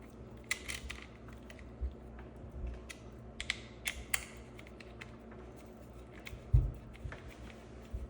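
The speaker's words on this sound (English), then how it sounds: "just take your 1/8 inch Allen key and tighten both of those screws until they stop" A 1/8 inch Allen key tightens two screws on an Elevate-X arm assembly, giving a series of small metallic clicks and ratcheting creaks spread over several seconds, close and quiet against a faint background hum.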